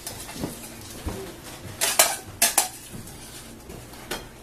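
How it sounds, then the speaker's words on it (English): A spoon clinks and scrapes against a plate as mashed potatoes are dished up, with a handful of sharp, close ceramic knocks clustered in the middle of an otherwise quiet moment. "Do you want to dish me up just a bit of potatoes?"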